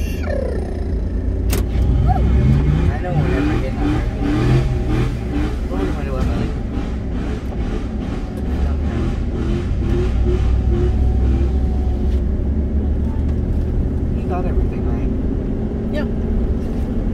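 A Chevrolet S10 pickup with an LS V8 swap runs loud and close, its engine droning and surging through revs for most of the stretch, with people talking and whooping over it.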